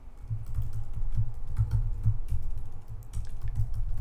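Typing on a computer keyboard during Linux terminal work, including a Ctrl+O shortcut and Enter, gives a steady run of close, crisp key clicks with a few firmer taps standing out.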